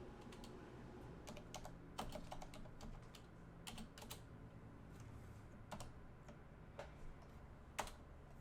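Someone types at a computer keyboard in a multi-screen home setup, giving quiet, irregular bursts of key clicks with short pauses between them and no talking.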